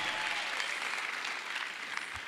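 Applause from a church congregation during a Kinyarwanda-language sermon, a steady wash of many clapping hands held at an even, moderate level for a couple of seconds with no voices over it.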